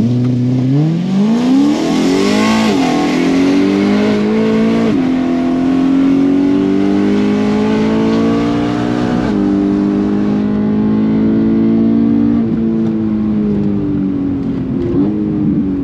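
A BMW M3 E92 with its naturally aspirated V8 accelerates hard, revs rising steadily through the gears in a loud, close, continuous engine howl with brief shift dips.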